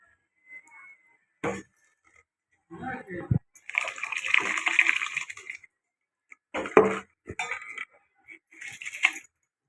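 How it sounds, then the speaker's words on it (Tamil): Rice for veg biryani goes into a pot of boiling water in a home kitchen, giving short bursts of splashing, pouring and light clinks separated by pauses. "தண்ணி நல்லா கொதிச்சிச்சு. இப்போ நம்ம சாப்பாட்டு அரிசியில் தான் பிரிஞ்சி சாதம் கிளற போகிறோம். இப்போ அரிசி போட்டுக்கலாம்."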